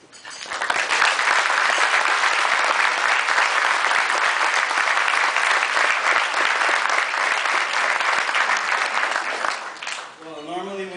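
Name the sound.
audience applause at Eagle Scout recognition dinner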